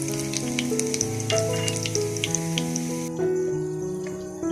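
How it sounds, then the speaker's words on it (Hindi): Garlic cloves and whole red chilies frying in hot oil for a chana and masoor dal, a continuous crackling sizzle with sharp pops over a steady hiss. "लहसुन और लाल मिर्च फ्राई हो गया"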